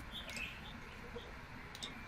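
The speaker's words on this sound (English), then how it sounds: "that bird is loud" A bird chirps indoors, short high-pitched calls repeating several times over a low background murmur, fairly faint and distant.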